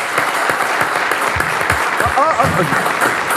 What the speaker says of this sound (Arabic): صفقوا على كابايلا اللي معنا